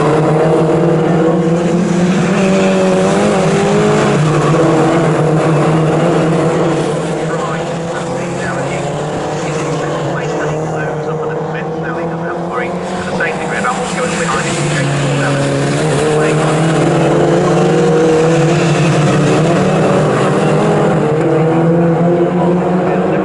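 Mini JCW race cars racing at Snetterton circuit produce a sustained buzzing engine drone with shifting pitch as the pack runs down the straight, dipping briefly midway, under continuous race commentary.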